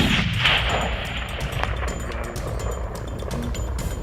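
Loud rifle gunshot during a mule deer hunt, opening with a sharp crack followed by a long rolling echo that lingers and fades across open country.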